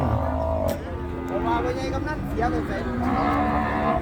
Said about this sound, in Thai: วัวไทย